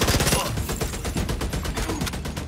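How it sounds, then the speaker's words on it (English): Automated turret firing in The Division 2 during a Dark Zone West recon mission, a loud continuous stream of rapid gunfire bursts with dense, rattling reports that carry through the whole stretch. "So it looks like Isaac got this turret going in."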